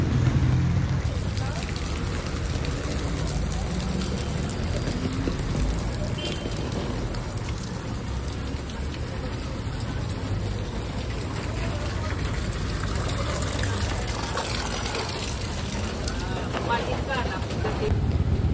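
Heavy rain falls steadily on an outdoor plaza while someone walks alone through it, a dense continuous hiss and patter, with talking heard over it.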